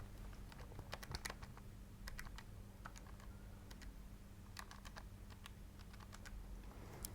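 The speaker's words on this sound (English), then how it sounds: "if you type that in your calculator" Numbers are keyed quickly into a calculator, giving a run of light, close tapping clicks in irregular bursts over a faint steady hum.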